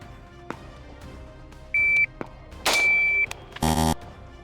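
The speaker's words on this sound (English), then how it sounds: "The timer's gonna go off." Short electronic beeps from a shot timer during a Glock 45 and PSA Saber shooting drill, two tones at separate moments, with sharp impulsive bangs and clatter from the drill, loud and close.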